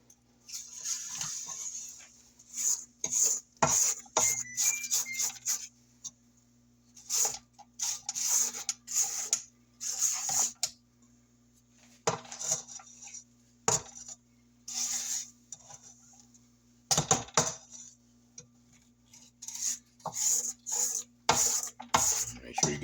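Spatula scraping the sides and bottom of a stand-mixer bowl of blackberry pound cake batter, giving repeated rubbing strokes in short bursts with brief pauses over a steady low mixer hum.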